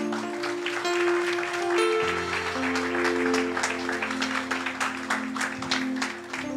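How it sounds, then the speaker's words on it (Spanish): A church congregation claps together in a dense, steady round of applause, with sustained keyboard tones holding underneath. "Dele una ofrenda de palmas al Señor."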